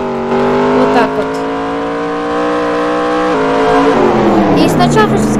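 A car engine in the Roblox Jailbreak game, the Air Tail car, holds a loud steady revving tone whose pitch glides slowly downward before settling, with someone talking over it.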